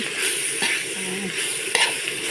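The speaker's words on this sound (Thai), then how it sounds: "ผัดพริกแกงนะคะมาผัดเผ็ดปลาไหลนะคะ" Eel is stir-fried with red curry paste in a hot pan, producing a loud, continuous sizzling hiss with occasional scraping and clinks of the stirring utensil.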